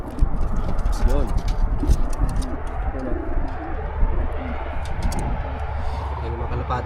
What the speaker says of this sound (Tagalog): Yan yung mga kalapati niya yan